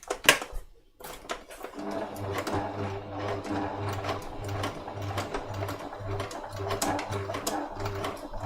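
A sewing machine stitches a dragon spine smocked bag, running through the boning in a steady, even whir. A brief sharp knock comes first, then continuous close-up stitching.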